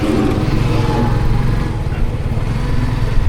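A motorcycle engine runs steadily and loud throughout, a continuous close drone with wind rush while riding on a foggy winter morning; no talking.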